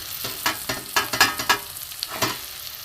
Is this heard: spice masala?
yes